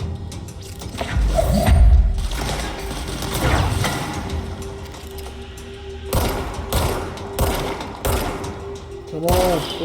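Bursts of gunfire crack out in the video game Control, several sharp shots spaced unevenly over mechanical clatter and a low hum, with a player's voice talking between them.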